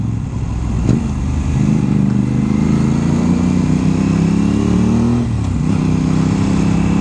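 An Aprilia motorcycle engine drones loud and close while riding, its pitch rising gradually through two gear changes marked by short dips, with steady wind noise underneath.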